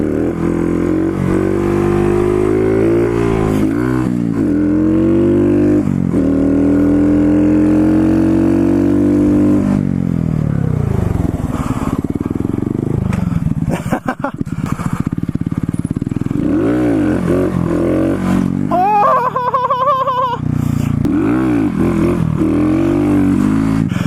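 A Honda Grom fitted with an adjustable subcage is ridden in a staggered stance, its small engine revving up and down through repeated throttle swells and drops, loud and close throughout with a brief clattery patch midway.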